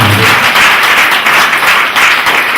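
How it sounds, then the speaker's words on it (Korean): Seminar audience applauding in a hall, a dense, steady wash of many hands clapping close and loud through the whole stretch, with no voices over it. "이럴 때 박수 한번 주시면"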